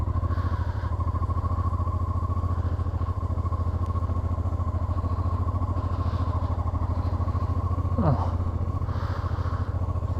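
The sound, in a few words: BMW F800 motorcycle engine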